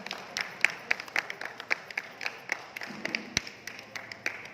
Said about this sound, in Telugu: వాళ్ళందరికీ another big round of applause,